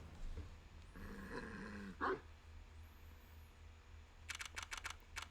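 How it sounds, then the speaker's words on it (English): A dog sound effect from the video game Ace Attorney Investigations 2, a short bark-like burst around the middle under game music, followed by a rapid run of clicky text-scroll blips. "A dog."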